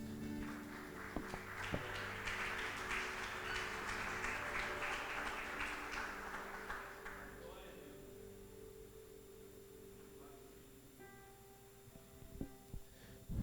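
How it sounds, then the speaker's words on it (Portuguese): A church congregation claps during an evangelical service, a full burst of applause that fades after several seconds, with sustained keyboard tones and a voice continuing beneath. "dê um aplauso ao Senhor Jesus"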